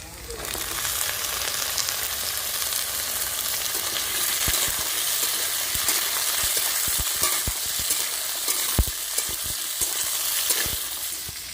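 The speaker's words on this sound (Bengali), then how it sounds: "কাঁঠালের বীজগুলো দিয়ে দেবো আলুর সঙ্গে কাঁঠালের বীজগুলো ভালো করে ভেজে নেবো" Jackfruit seeds and potatoes frying together in a pan, a continuous dense sizzle with occasional sharp clicks of stirring, fairly close and steady throughout.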